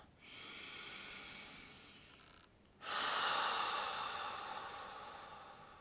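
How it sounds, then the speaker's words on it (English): One long, slow breath drawn in through the nose and mouth, close and alone, with a brief pause before a fuller, louder second pull of air. "Just taking a deep breath in here"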